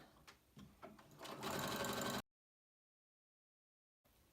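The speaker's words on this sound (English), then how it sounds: "I'm going to go ahead and just do a seam, side seam. I'll back stitch just to reinforce it" Sewing machine running a side seam on a T-shirt dress, with short stitching bursts building into a steady loud whir that cuts off abruptly, followed by silence.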